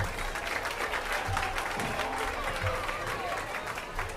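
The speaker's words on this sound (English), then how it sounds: "let's give all these juniors another round of applause" Faint, steady applause rises from spectators in a livestock arena at a youth swine showing for a junior class, a dense patter of many hands sustained evenly throughout.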